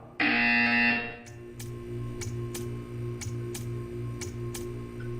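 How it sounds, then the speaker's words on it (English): Portal 2 sounds a buzzer: one loud, harsh, sustained electronic tone lasting about a second. A steady series of soft ticking clicks follows against a low background hum. "You will hear a buzzer."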